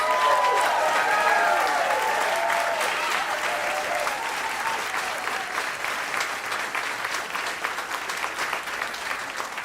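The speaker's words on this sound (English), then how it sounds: "how about one last round of applause for this fantastic," A club audience at Jazz St. Louis applauds the Arcadia Dance Orchestra with dense, sustained clapping that starts strong and slowly thins and fades toward the end.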